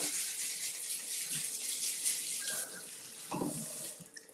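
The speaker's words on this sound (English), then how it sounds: "So let's rinse this off." Asparagus rinsed under a running kitchen tap, a steady hiss of water into a sink with a few rattles and splashes as the spears are handled, close, no talk.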